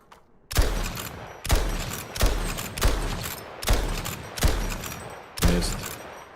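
A gun in Toxic Commando fires seven heavy, booming shots at a steady spacing of about one per second, each decaying with a reverberant tail.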